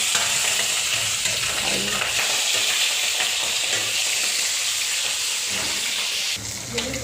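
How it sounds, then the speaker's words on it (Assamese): Steady loud sizzling and hissing of boral fish frying in a hot iron wok, continuous throughout with faint scraping and clatter, no voices. "এইফালে এতিয়া মই মাছকেইডোখৰ কেৰাহীত দি দিছোঁ"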